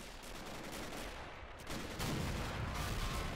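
Faint, muffled howitzer artillery fire and battle rumble in a WWII strategy game, a steady low wash of distant booms that swells slightly louder partway through, with no voices.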